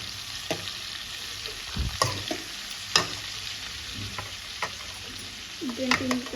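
Coriander seeds, cumin, tamarind and garlic cloves stirred in a hot pan, a steady sizzle broken by repeated sharp scrapes and clinks of a spoon against the metal, close and fairly loud, with a few faint voice-like tones near the end.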